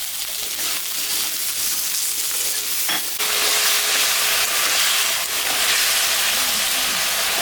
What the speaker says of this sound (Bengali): তরকারিটা ভাজা ভাজা হয়ে গেছে